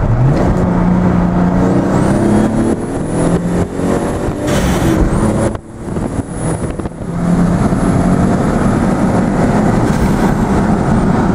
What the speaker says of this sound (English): now it's time we do a full pull. So we'll do second and third gear.